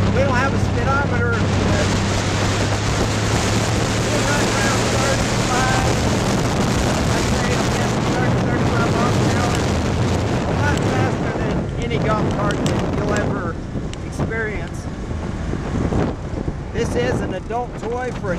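A customized EZ GO six-passenger golf cart drives down a Las Vegas street, with a continuous roar of rushing air and wind buffeting the microphone over a low motor and road hum.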